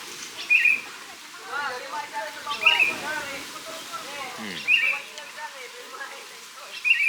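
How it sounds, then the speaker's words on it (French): Birds chirp in short bright bursts at intervals across a calm outdoor spot in Sulawesi, Indonesia, with soft speech and low background murmur underneath. "on entend les oiseaux"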